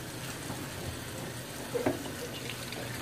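Water running from a tap into a sink while foraged rattlesnake weed is washed, a steady close splash with a few brief handling knocks and no talk.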